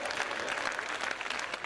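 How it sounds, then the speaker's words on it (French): Audience applause at a live African stand-up comedy show, clapping for Ouagadougou police officers: dense, steady clapping from a crowd, loud and continuous throughout. "Ok, on va applaudir pour les policiers ouagalais."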